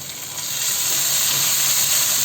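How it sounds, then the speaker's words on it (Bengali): Ginger paste hits a pan of lightly fried chopped onion, and a broad steady sizzle rises quickly and holds, close and fairly loud with no talk. "পেঁয়াজটা ভাজা হলে, হালকাই ভাজা হলে আমি এখন দিয়ে দেব এই যে আদা বাটা"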